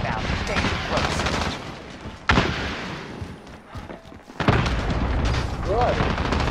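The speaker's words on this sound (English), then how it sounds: "Allied cluster strike inbound." Cluster strike explosions in Call of Duty Modern Warfare, a loud barrage of rolling blasts and gunfire-like cracks in two bursts, with a brief lull between and a voice speaking.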